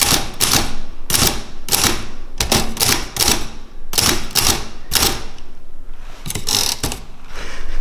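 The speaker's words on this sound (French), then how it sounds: "Petite machine à écrire." Keys of a small old typewriter clatter in loud, close, rapid bursts with mechanical clacks, inside an abandoned château. Nobody speaks.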